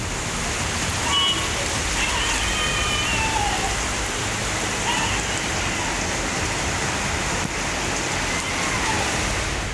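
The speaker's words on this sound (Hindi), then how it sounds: "इन्हीं इलाकों में नॉन स्टॉप बारिश के चलते सैलाब आ गया" Heavy, non-stop monsoon rain in flood-hit areas of Maharashtra and Gujarat, a loud, continuous hiss of downpour drumming on surfaces, steady and unbroken from start to finish.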